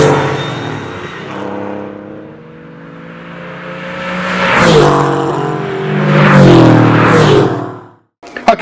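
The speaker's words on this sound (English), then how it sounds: "I love the way this engine revs. A naturally aspirated engine in the 911 really is something to behold." The naturally aspirated flat-six of a Porsche 964 911 C4 revs up and down in long, loud swells, climbing and falling in pitch before cutting off abruptly.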